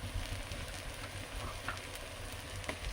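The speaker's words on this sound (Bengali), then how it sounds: "এটা কিন্তু খুব ভাজবো না, একটু হালকা করে ভেজে নেব।" Finely chopped onions frying lightly in a pan, a close, soft, continuous sizzle with faint stirring scrapes and small crackles, no one talking.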